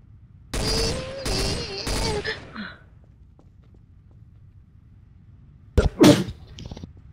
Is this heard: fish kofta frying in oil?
no